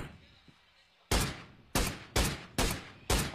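Gunfire in PUBG Mobile during a tournament match: after a quiet stretch, five sharp, loud shots ring out in an uneven rhythm, each one cracking and then fading quickly.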